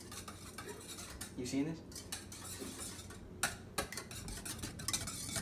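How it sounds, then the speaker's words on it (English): Eggs being whisked in a bowl, a fast rhythmic metallic clatter and scraping up close, with a brief spoken question partway through. "you get the whisk. Once you have your whisk, you make sure you stir it up real good."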